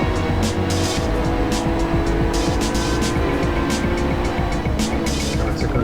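GT3 race cars roar around Zandvoort in the Assetto Corsa sim racing game, loud sustained engine drone with tire squeal and rhythmic gear-shift bursts as several cars push through the final corners, no voices.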